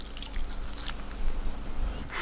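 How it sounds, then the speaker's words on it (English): Half a cup of water poured onto whole wheat bread, a short soft trickle and splash, faint and close, with no talking. "So now I'm going to add in my half a cup of water."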